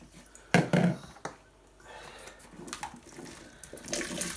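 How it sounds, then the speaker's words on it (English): Blackberries drop into a big sink of cold water. There is a loud splash and sloshing at first, then softer trickles and small water movements that fade out. "So I've got a big sink of cold water. Just going to put the blackberries in."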